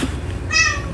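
A Himalayan cat gives a single short, bright meow midway through, close and fairly loud over a low indoor background with faint talk.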